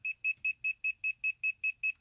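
A rapid electronic beeping from a KAIWEETS KM201 multimeter's voltage detector, about nine evenly spaced high-pitched tones repeating in quick succession, clear against near silence.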